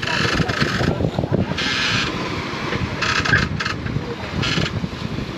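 Steady wind rushing over a microphone on a sailboat at sea, a continuous broad roar, gusting louder in places, with faint mechanical creaks beneath.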